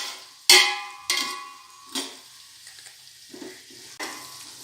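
Onions fry in sesame oil for chicken biryani, with sizzling punctuated by several sharp scraping stirs of a spoon against the pan, spaced about a second apart, close and clear.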